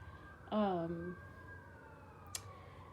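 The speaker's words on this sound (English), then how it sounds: "Can you hear the sirens?" A brief siren wail from emergency vehicles, a single rising-falling sweep heard distantly outdoors beneath a quiet background.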